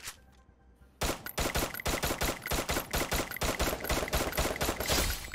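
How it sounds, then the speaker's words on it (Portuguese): Video game gunfire from Free Fire: after a second of quiet, loud rapid shots crack out in a dense, continuous stream of sharp bursts that last to the end. "E eu tô tomando tiro."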